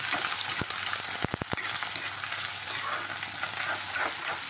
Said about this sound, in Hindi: और इसके बाद ये प्याज और कड़ी पत्ता एक साथ डाल देंगे और अब हम इसे अच्छे से हिला लेंगे